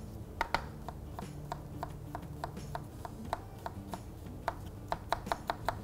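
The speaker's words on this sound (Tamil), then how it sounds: "இங்கே ஒரு வெங்காயம் வச்சுருக்கேன். இதை எவ்வளோ ஃபைனாக கட் பண்ண முடியுமோ அவ்வளோ ஃபைனாக கட் பண்ணிங்க." An onion being chopped very finely with a knife on a board, a fast run of crisp, even taps that tightens into quicker bursts near the end, close and fairly quiet with no talking.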